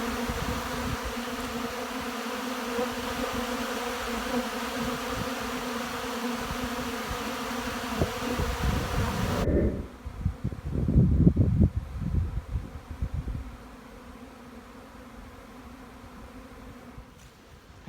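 Honey bees buzzing around a beekeeper working a bee yard, a steady close hum that swells louder and rougher midway, then thins to a quieter drone.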